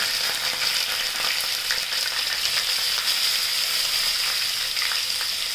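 Pieces of cucumber stuffed with masala frying in a pan with curry leaves, giving a constant dense sizzle and crackle, close and fairly loud, with faint stirring and no speech.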